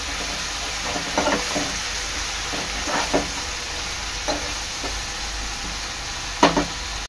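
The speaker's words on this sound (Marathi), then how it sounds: "वाटण चांगलं शिजवून घ्यायचं तेलात।" Masala paste frying in oil for an Agri-Koli style octopus dish, a steady close sizzle with a few brief stirring scrapes and clinks throughout.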